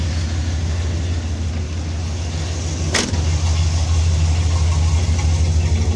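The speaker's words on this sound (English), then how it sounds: "The exhaust is pretty cool on here." A squarebody Chevrolet Suburban, originally a diesel 2500, idles steadily through long-tube headers and true dual exhaust with two Flowmaster mufflers, giving a deep, even low rumble that carries on near and loud throughout, with a brief sharp click partway through.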